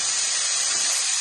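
Cauliflower stir fry sizzling in a hot pan, a loud, steady, close hiss of frying that continues without a break.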